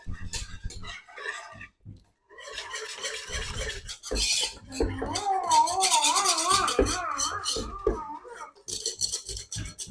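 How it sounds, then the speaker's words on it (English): Greek yogurt gets mixed in a container, with scraping and stirring strokes that come in irregular bursts, while a voice talks intermittently over it. "So you make sure you mix every corner of your container"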